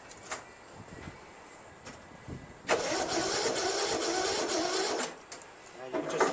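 Craftsman LT1000 lawn tractor with a Briggs 19.5 HP opposed twin engine on a low battery, cranking sluggishly in a few short bursts and then a longer labored grind, close by.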